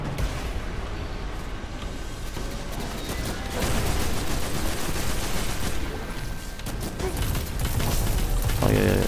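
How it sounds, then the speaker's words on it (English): Grenade blast and rapid gunfire in the video game Destiny 2, a dense continuous barrage of shots and bursts running the whole stretch, loud and busy with no talk over it. "dang it, I threw the grenade over here."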